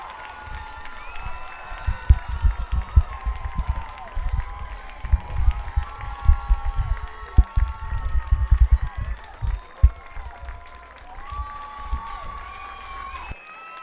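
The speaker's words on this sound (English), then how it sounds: "One more round of applause for this Dartmouth team." Crowd at a high school boys' soccer playoff game cheering and applauding after the final whistle, bursts of clapping and shouts over continuous announcer-style talk and whistling tones, fairly distant and open.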